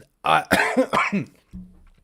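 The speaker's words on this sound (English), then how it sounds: "sorry for the cough." A few sharp, harsh coughs in close succession near the mic, then a quieter throat-clearing rumble after a short pause.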